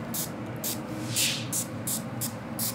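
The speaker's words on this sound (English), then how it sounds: "All right, so take your spray bottle." Quick bursts of a spray bottle misting, about seven hissing squirts in an uneven rhythm, close by over a low background hum.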